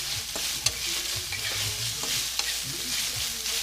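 Saltfish is stirred around in hot oil in a pan over high heat, a constant loud sizzle broken by a few scraping stirs and occasional spoon knocks, with no talking.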